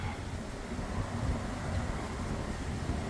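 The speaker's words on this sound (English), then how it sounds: "Now, we've had a lot of wind. It's probably evident in the video." Strong wind blowing at an outdoor temple site in Thailand, a steady low rumbling buffet across the microphone, loud and continuous with no voices.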